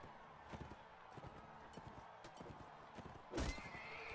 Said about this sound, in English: Now just get a nice little gallop going here.